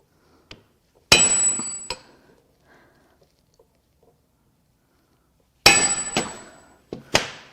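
Sharp metallic hammer blows strike an Audi e-tron drive motor unit during a teardown: a single clang, then a close burst of several ringing hits after a long silent pause, each strike decaying quickly.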